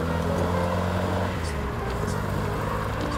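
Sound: Morgan 4/4 car driving on country lanes

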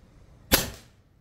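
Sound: air rifle shot

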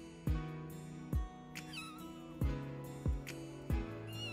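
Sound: kitten meowing, stuck in a metal pipe

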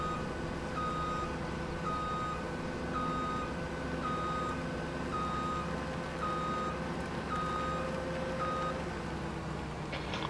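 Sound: farm vehicle reversing with beeps, from video game Farming Simulator 17

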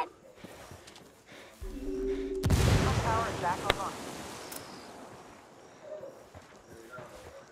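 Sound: frag grenade explosion in Ghost Recon Wildlands video game

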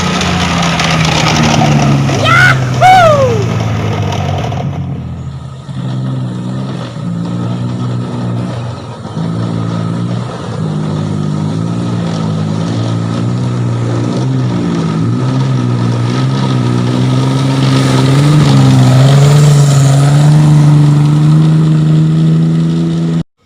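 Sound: engine test run after ignition and spark plug gap tuning

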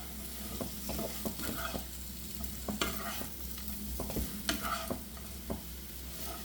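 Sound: stirring potato pieces into masala in a pan

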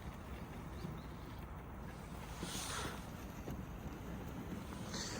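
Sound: strong wind

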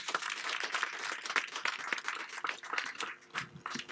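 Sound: audience applause for Ibrahim

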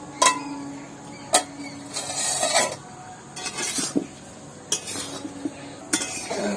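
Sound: pot lid being removed after boiling cauliflower

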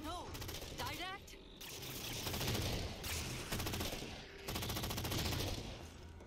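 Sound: gunfire in the video game Halo 4

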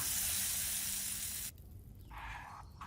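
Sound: hot mustard-seed and curry-leaf tempering poured onto coconut chutney, sizzling

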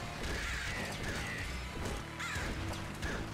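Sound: crows cawing in the video game Nuclear Throne

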